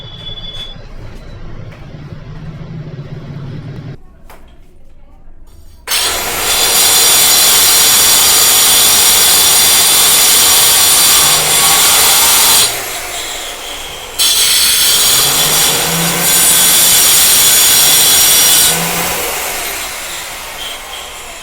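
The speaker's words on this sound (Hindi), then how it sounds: "और ये भाई हमने जीरी मारनी शुरू।" A grinder or wall chaser cuts grooves into a room wall for electrical wiring, a loud continuous abrasive whine that runs for long stretches and stops briefly between passes.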